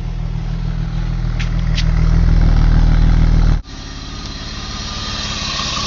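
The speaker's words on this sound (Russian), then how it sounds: "этот шницерский выхлоп, сейчас покажем, пердолит очень сильно." BMW 525 E34 Touring with an M50 engine tuned by Schnitzer and a loud Schnitzer exhaust, idling close by with a steady, heavy low rumble that cuts out sharply partway through, then continues at a lower level.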